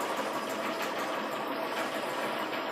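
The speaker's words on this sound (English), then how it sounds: "then I'm just going to stitch this stitching line" A sewing machine runs steadily, stitching along a seam line on foundation paper piecing, with an even, continuous whirring hum and no talking.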